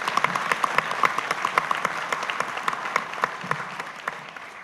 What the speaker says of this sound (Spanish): Un otro amigo también de la casa, Rafael Folonier, para quien pido un aplauso